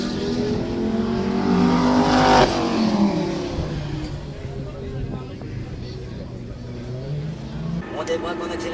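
A Lamborghini LP 640-4 accelerates on the LFG racing circuit, its loud engine note climbing steadily in pitch, with a drop at a shift before it rises again. A voice talks over the engine.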